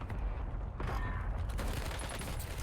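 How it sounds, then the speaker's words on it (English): Gunfire in a Call of Duty Warzone gun battle during a collegiate esports championship match, dense overlapping bursts of shots with booming low rumble, loud and continuous throughout. "Tough gun battle for Mortar."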